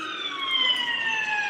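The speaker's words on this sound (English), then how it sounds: "let's just wait for this siren to go down. Very, very busy street." An emergency siren wails on a very busy city street, a loud steady tone gliding slowly downward over low traffic rumble.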